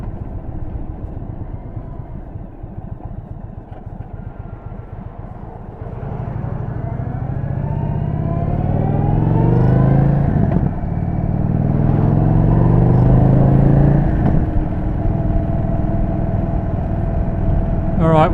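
A 2023 Indian Chief Dark Horse motorcycle in Quartz Gray is ridden, its engine a steady low rumble that swells louder partway through as it pulls away, with throttle rising and easing while wind noise rushes over it.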